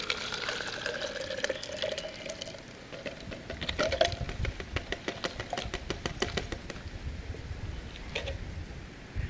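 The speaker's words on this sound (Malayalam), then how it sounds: "ഇതുപോലെ ഒരു ബോട്ടിലേക്ക് നമ്മൾ ഇതിനെ മൊത്തമായിട്ട് ഇങ്ങനെ ഒഴിച്ചു കൊടുക്കണം" Liquid fertilizer mixture for flowering plants poured into a bottle, a continuous gurgling trickle with splashy patter and small bursts, close by and fairly steady throughout.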